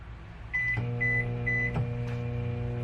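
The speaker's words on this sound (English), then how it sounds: "we'll throw this back in the microwave real quick" A microwave oven hums steadily, heating bait plastic, with three short beeps as it is started, then the low drone continuing alone.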